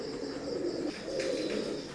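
Soft, continuous cooing from a pair of Oman bloodline Teddy pigeons, steady low murmuring throughout, close by with a faint background hiss.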